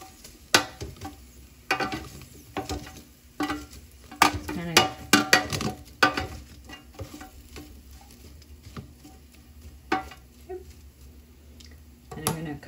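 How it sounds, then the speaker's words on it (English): Sweet potato fries get turned in a pan: sharp scraping and clattering utensil hits come in irregular bursts over a soft sizzle, with a voice talking in between. "I'm going to turn my sweet potato fries"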